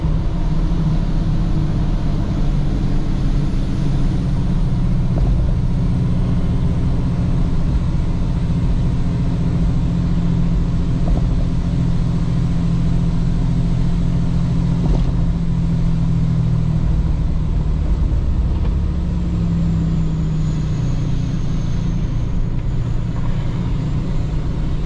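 A loaded Dodge Ram pickup carrying around six tonnes engine-brakes down a steep farm hill, giving a steady, loud low engine drone that holds constant throughout with no braking squeal and no talking.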